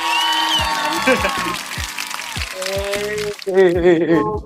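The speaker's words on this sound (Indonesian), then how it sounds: "Wih, tepuk tangan." Audience clapping at a live talk-show taping rings out beneath loud, continuous speech from nearby voices, with the applause filling the background throughout.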